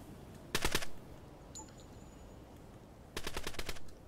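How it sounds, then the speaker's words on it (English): Two short bursts of machine gun suppressive fire sound in the video game Door Kickers: a rapid rattle of several shots, a quiet gap, then a longer burst, set against low background noise. "So good suppression from that machine gun allowed our"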